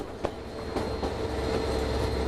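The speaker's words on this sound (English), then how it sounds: "The stout bridge construction spanning the east fork of the Skagway River" A White Pass train rumbles across a sturdy bridge over the east fork of the Skagway River, a loud continuous rolling roar with a few sharp clacks of the wheels over rail joints.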